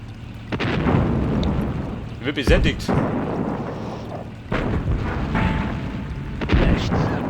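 Artillery cannons fire in the WWII strategy game Sudden Strike Forever, with heavy booms and explosions rumbling over continuous battle noise, a sharp blast near the middle and another late on, while someone speaks briefly.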